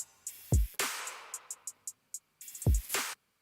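Heavy drop drum groove from a remix, built on booming 808 bass kicks with long low tails, a loud noisy snare burst and quick hi-hat ticks, in a punchy repeating pattern with no voices over it.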